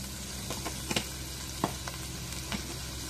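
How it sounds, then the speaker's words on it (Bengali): Bay leaves and turmeric powder sizzle in hot oil, a soft steady frying hiss broken by a few faint clicks and stirring taps. "এখন ওই তেজপাতা দিই তেলানির মধ্যে"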